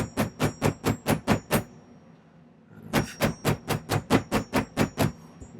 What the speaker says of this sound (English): I think I'm going to take my plastic hammer and do a little bit of